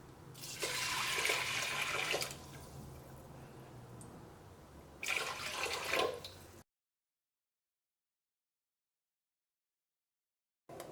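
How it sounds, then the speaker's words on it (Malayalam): Water poured onto rice in a pressure cooker for curd rice, a steady splashing stream that runs in two bursts, a longer one at the start and a shorter one a few seconds later, followed by near silence. "ഇതിലേക്ക് 3 കപ്പ് വെള്ളമാണ് ചേർക്കുന്നത്"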